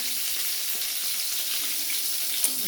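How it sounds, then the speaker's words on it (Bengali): Whole cumin seeds sizzle in hot oil in a cleared space among frying pointed gourd, giving a continuous close, even hiss with faint crackles. "ওর মধ্যে আমি গোটা জিরে দিয়ে দেবো অল্প একটু ফোড়নে"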